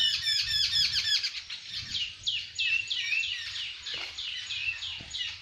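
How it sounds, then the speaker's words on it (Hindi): Birds chirp and tweet busily in quick repeated bursts, fairly close and continuous. "पक्षियों के किलोल करने की आवाज़"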